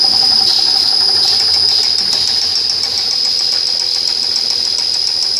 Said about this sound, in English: Tim, go ahead and start it up.